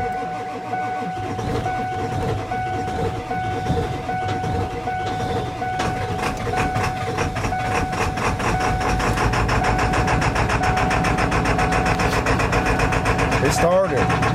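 Ford diesel engine cold starting after glow-plug cycling, a rough mechanical clatter building into a steady loud idle, with a sharp squeal near the end.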